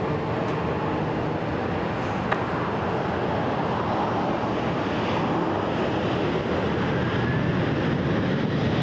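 A Southwest airliner on its takeoff roll from runway 28 right at Fort Lauderdale-Hollywood International Airport, a steady broad roaring rumble of jet engines that holds loud and unbroken throughout.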